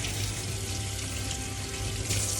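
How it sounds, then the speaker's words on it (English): Onions being washed in cold water under a kitchen tap, with a steady close hiss of running water and splashing that barely changes through the stretch; no speech. "I'm going to wash my onions in cold water."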